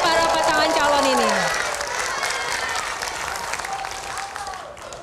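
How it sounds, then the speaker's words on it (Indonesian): Loud audience applause for the two regency head and deputy candidates at a 2024 Sorong public election debate, steady clapping filling the hall while a voice trails off at the start, then fading slightly toward the end. "saya minta kepada hadirin semua di sini untuk memberikan tepuk tangan yang paling meriah kepada kedua para pasangan calon ini"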